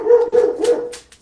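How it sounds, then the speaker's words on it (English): A pet dog barking indoors as someone arrives home, a quick run of three or four loud close barks and yips ending in a short whine, with no talk over it. "Sorry about my dog. My dad's coming home and he freaks out every time."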